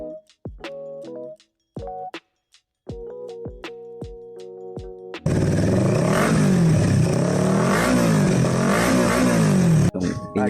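Motorcycle fitted with an MIVB muffler and resonator, first giving a string of short sharp revs with pauses, then a loud, sustained roaring rev with wavering pitch that cuts off abruptly.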